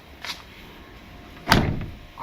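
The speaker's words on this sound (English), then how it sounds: "I'm impressed how good those doors still close." A vintage car door with 56,000 miles on it shutting, a light click early on, then one solid, fairly close thump with a short decay.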